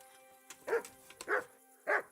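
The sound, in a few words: dogs barking in video game Kingdom Come: Deliverance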